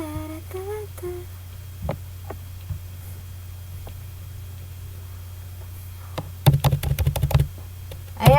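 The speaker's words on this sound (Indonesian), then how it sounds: "Mbak Lui lagi ngetik" A computer keyboard being typed on, with sparse single keystrokes early and then a quick burst of clattering keys near the end over a steady low electrical hum.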